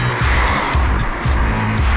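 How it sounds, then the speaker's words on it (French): Tesla Roadster under hard acceleration, a loud, close, continuous roar with pulsing low rumble and a sustained whine throughout. "je vais donner des gaz. Cette accélération est vraiment énorme et instantanée"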